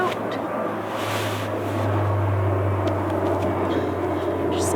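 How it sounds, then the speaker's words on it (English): Airplanes passing overhead outdoors make a steady, broad low rumble that swells slightly midway, continuous and moderately loud throughout, with no talk over it. "Just some airplanes."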